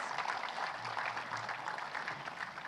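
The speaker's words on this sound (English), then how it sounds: "ask everybody in the room to give a big round of applause to all our panelists" An audience applauds panelists at a conference plenary session, a steady wash of clapping from many hands in a hall, sustained at moderate volume throughout.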